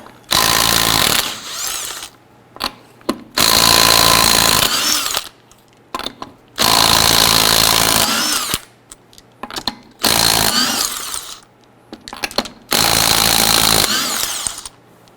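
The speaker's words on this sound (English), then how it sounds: "Using a 19mm socket, let's loosen and remove our lug nuts" Impact wrench loosening and removing lug nuts with a 19mm socket on a 1997-2006 Jeep Wrangler, in four long loud bursts of rapid hammering with short gaps between them and no talking.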